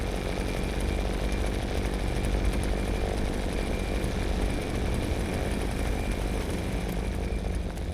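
The killer's chainsaw in the horror game Hollowbrook Apartments snarls in a constant, fairly loud engine drone that barely changes across the whole stretch, with no speech over it.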